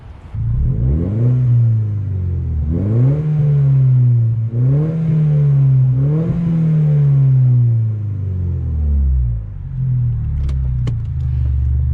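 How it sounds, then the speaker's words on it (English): A 2008 MINI Cooper S JCW engine revs repeatedly with a loud, raspy Quicksilver exhaust, rising and falling in several close bursts before settling to a rumbling idle. "This is an incredibly loud little car."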